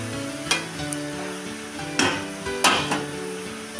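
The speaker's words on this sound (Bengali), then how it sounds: "এবার আমি ভালো করে একটু নাড়িয়ে ঢেকে দেবো।" Taro leaves seasoned with salt and turmeric are stirred in a pan, a few sharp scraping strokes of the utensil against the metal over a soft, steady cooking background.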